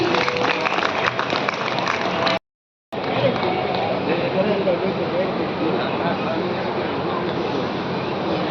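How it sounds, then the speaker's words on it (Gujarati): Dense, steady applause fills a Shri Bhudev Charitable Trust inauguration of the Brahmarshi Sansthan in Pratappur as donors are welcomed. The crowd noise is loud and continuous, breaks off for about half a second, then resumes, with voices mixed in. "જોરદાર તાળીઓના નાદ સાથે આપણે આ તમામને વધાવીએ"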